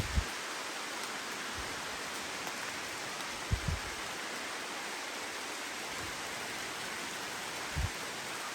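Heavy rain falling outdoors, a steady soft hiss of downpour with a few faint low thumps of drops, distant and quiet, no talking.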